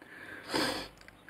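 Someone sniffing a cup of monthly-subscription coffee said to carry a gummy bear flavor, a single soft close breath drawn in through the nose at mid-clip, alone with no talk.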